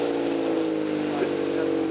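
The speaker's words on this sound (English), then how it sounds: "the unmistakable sound of an illegal muffler" A car engine with an illegal muffler idles loudly and steadily nearby, a low droning rumble with a slight swell partway through and no voices.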